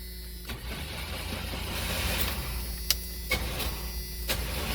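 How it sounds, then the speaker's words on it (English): Starter motor on an S10 pickup engaging against a seized, locked-up engine, a steady mechanical whir with a few sharp clicks and clunks near the end and no catch or firing. "It did sound like the starter engaged though, so I bet it's locked up."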